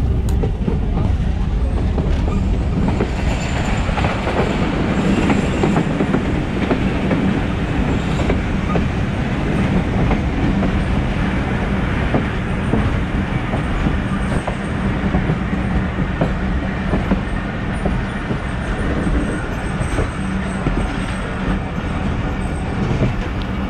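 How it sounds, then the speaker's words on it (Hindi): Thal Express passenger train running slowly at caution speed, a continuous loud rumble of carriages with irregular wheel clatter and faint squeals, heard from on board. "ट्रैक पर कुछ काम होने की वजह से ट्रेन इस वक्त कॉशन स्पीड पर रन कर रही है।"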